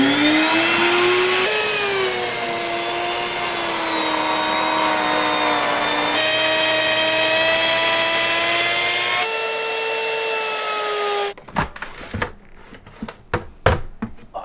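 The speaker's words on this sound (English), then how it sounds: "I love my Nutri-Mill grinder." A Nutri-Mill electric grain mill grinds sprouted wheat, a loud high whining motor hum running steadily for about eleven seconds before shutting off, followed by scattered knocks and clatter.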